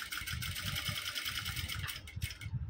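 A Jack F5 sewing machine stitches under button control instead of the foot pedal, its motor whirring in a fast, even, buzzing run that stops just before the end, close and loud with no speech.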